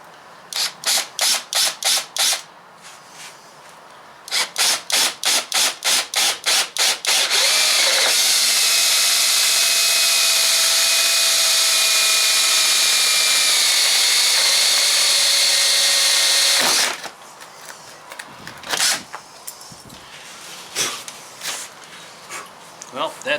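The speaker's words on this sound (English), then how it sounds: "and drill our hole." A power drill drilling a hole in a teardrop camper trailer whines in short repeated pulses, then runs steadily for several seconds, loud and close, before cutting off to scattered clunks.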